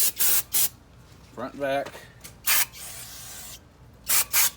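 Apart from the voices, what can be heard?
brake cleaner spray onto new brake rotors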